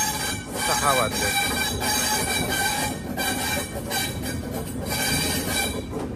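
Two trains run parallel on Indian Railways tracks near Vadodara Junction at sunset, a steady loud rumble of wheels on rails with brief squeals and clatter throughout, a voice speaking briefly.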